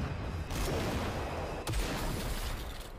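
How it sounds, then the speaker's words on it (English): An anime sound effect of crackling and breaking with a gunshot, heard as a dense sustained rumbling crackle that is loud throughout, with a sharp crack about midway through. "the crackling and breaking plus the gunshot"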